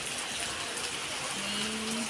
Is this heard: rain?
yes